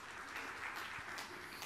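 A church congregation applauding, a steady wash of many hands clapping together, heard faint and distant for a moment without a break.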